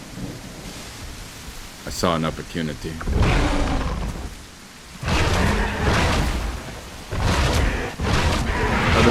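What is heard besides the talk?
thunderstorm with rain in video game The Isle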